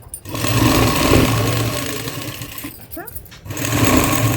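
A sewing machine runs steadily while stitching stretched elastic onto cloth, its motor whirring loudly and close, with a short pause near three seconds before it resumes; someone speaks over it.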